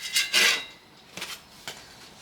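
Metal pan handled in a kitchen, two quick scraping clinks followed by two softer, separate knocks, close and otherwise quiet.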